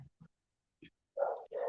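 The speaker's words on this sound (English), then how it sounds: "I have no idea what Harley is barking at out there" A dog barks a few times at a distance, short muffled yips at first, then two louder barks in quick succession.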